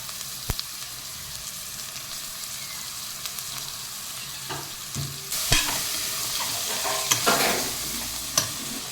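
Mutton curry with tomatoes is stirred in a pan, a steady sizzle under repeated scraping strokes of the spoon, growing louder and busier in the second half, close up with no voices.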